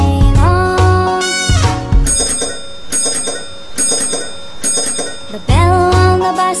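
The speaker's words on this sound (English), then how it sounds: "The bell on the bus calls ding," A bus bell in a children's nursery rhyme chimes a few bright dings, clustered between sung lines of a melodic children's song.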